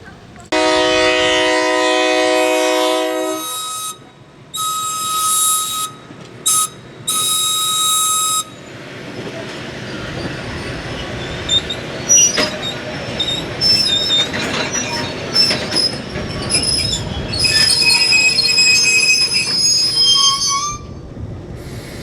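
The Midland 30 locomotive rolls past at the Illinois Railway Museum during a Diesel Days event. Loud, piercing wheel squeal and sustained horn-like tones come first, then a rumbling, clattering passage with further high metallic screeches close by.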